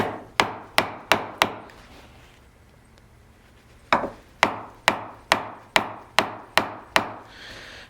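A hand chisel works wood held in a vise, with sharp, evenly spaced percussive strikes in two bursts, four quick hits, a pause, then about eight more, close and crisp.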